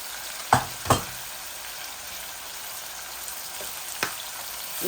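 Curry powder, cumin and coriander frying in a pan, a soft steady sizzle broken by a few sharp spoon taps against the pan, close and fairly quiet.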